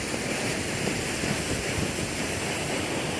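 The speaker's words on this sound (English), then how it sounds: "I'm at the first of the waterfalls that I'll see." Cascada del Fuego waterfall in Baños, Ecuador, heard as a dense, even roar of falling water, loud and continuous with no breaks, filling the whole short moment without any voices.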